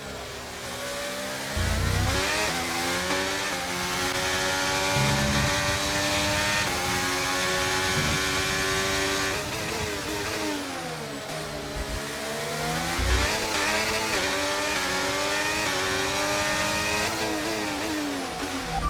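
Race car engines in the F1 23 video game scream continuously, with rising and falling harmonic whines as the cars shift and accelerate, one car close and loud among others, no talking.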